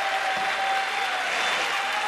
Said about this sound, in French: Applaudissements pour Albert, mesdames, messieurs, l'applaudimètre.